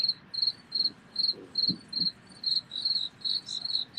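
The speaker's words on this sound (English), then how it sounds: "crickets" Crickets chirp in a steady, repeating pulse of short trills, moderately close, with faint low background noise and no voices.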